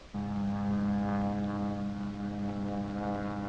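A propeller airplane spraying for ants over open areas makes a loud, steady droning engine hum with a strong buzzing tone, starting abruptly and holding near and constant throughout.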